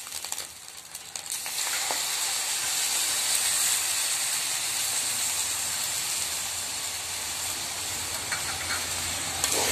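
Fried, rinsed lentils tipped into a pan of fried rice and vegetables for vegetable khichuri, bursting into a loud, steady hissing sizzle after a brief quieter start, close and continuous with no talk.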